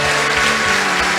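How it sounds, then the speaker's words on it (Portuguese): Church congregation applauding, a dense, even burst of clapping that fills the brief moment at close range. "Podemos aplaudir ao Senhor?"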